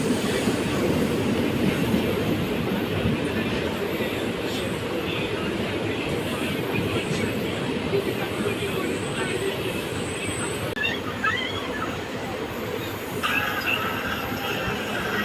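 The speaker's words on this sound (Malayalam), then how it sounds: "ട്രെയിൻ ഇപ്പം തിരുവനന്തപുരം സെൻട്രൽ ഭാഗത്തേക്ക് പോയിക്കൊണ്ടിരിക്കുകയാണ്" Continuous rumble and rattle of the Punalur–Madurai Express moving on rails near Thiruvananthapuram, steady and close, with faint squeals and clicks from the wheels.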